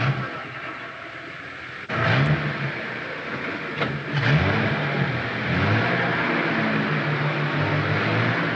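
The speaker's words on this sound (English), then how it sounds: "Get in the car and start up the motor." Car engine starting up, then revving in several rising and falling surges at moderate volume, with a brief lull between bursts.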